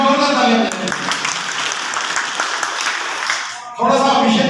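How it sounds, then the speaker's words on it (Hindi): A crowd at a Bharatiya Janata Party gathering in Poonch applauds the announcement of a new district president, a dense wash of clapping with loud speech bursts at the start and end. "एक बार जोरदार ताली"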